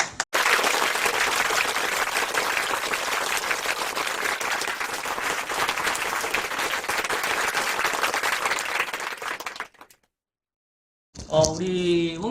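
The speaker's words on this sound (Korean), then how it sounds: "박수 한번 칩시다." A classroom audience at a civil-service exam prep academy in Daegu gives a sustained round of clapping for successful candidates, steady and fairly loud, cutting off abruptly before a brief silence and then a voice speaking.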